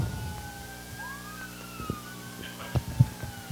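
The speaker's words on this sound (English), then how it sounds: "I was pausing for the sirens" Wailing emergency sirens rising and falling in the distance, with occasional low thumps and bumps nearby.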